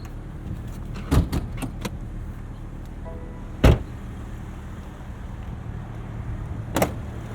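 Hood of a 2023 BMW Z4 M40i being released and lifted, with a few sharp metallic clicks and clunks, one loud thud in the middle and another latch click near the end over a quiet outdoor background.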